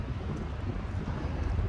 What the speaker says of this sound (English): Really windy here.